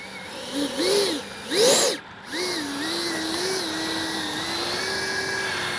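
Startup of a Freewing 70mm BAe Red Hawk RC jet at the east end of a runway, a whining electric tone rising and gliding in pitch with a couple of louder surges, then settling into a steady hum.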